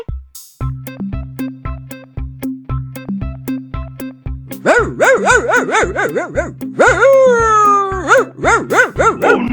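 A cartoon dog barks in a quick, regular series of loud sharp barks, then breaks into rising, wavering howls and whimpering yelps near the end, with no speech over it.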